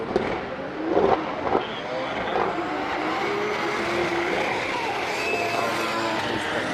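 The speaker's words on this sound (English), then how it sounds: "Perkkiö in his E36 BMW" BMW E36 drift car engine roaring through a long sweeper at Drift Masters 2026 practice in Finland, a steady loud drone with surging revs and faint crowd noise underneath.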